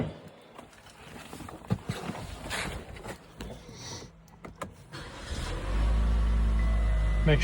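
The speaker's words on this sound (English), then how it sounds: "we'll then reconnect the battery and start the car" A 2023 Chevrolet Equinox engine cranks over and settles into a steady, loud idle after spark plug replacement, preceded by shuffling and clanking from working under the hood.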